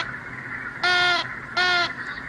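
Two loud, harmonic hooting calls of a great horned owl played from an owl caller device, each lasting about half a second with a short pause between, standing out clearly over a faint background hum.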